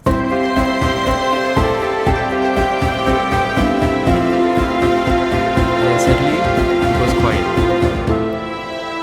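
A full, bright orchestral passage with layered strings holding a sustained melody over a steady pulsing rhythm, loud and dense throughout.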